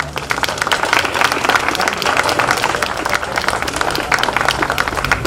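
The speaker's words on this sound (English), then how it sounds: "Let's give him another round of applause," An audience at an overdose memorial vigil gives sustained applause, a dense, even wash of many hands clapping that holds steady and loud throughout.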